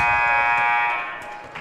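End-of-quarter buzzer at a junior high school basketball game in a gym, a loud sustained electronic tone that holds steady for over a second before fading slightly, with faint crowd noise beneath.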